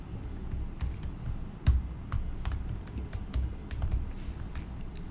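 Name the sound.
typing on a computer keyboard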